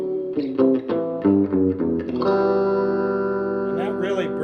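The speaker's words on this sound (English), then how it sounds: "add a little reverb" Electric guitar chords ring out through a Monoprice Stage Right 5-watt tube amp, with notes sustaining into a lush reverberant tail; a voice speaks briefly over it.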